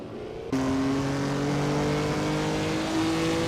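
A 1969 Chevrolet Corvette Monza races in a video game, its engine holding a steady loud drone with a sharp jump in volume early on and a sustained, slightly shifting pitch throughout.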